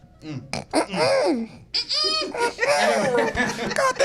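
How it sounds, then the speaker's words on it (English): A man's burp rumbles out amid chuckling and laughter from people nearby, close and loud, mixed in with voices. "Excuse me, I had a burp in there."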